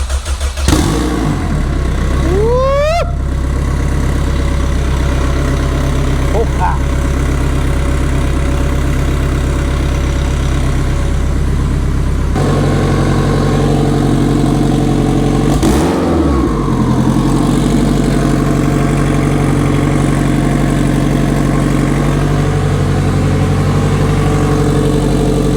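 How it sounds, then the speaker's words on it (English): An Audi RS3 engine starts with a quick crank and settles into a steady, loud idle close by, holding a low even drone with a brief blip partway through. "You ready to start the RS3, my brother?"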